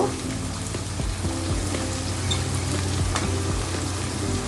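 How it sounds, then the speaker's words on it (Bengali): Hilsa fish frying on its second side in hot oil, giving a dense, steady crackle and sizzle like rain on a surface, close and continuous with no talk. "এখন আরেকটা পিঠ আমি একটু ভেজে নেব"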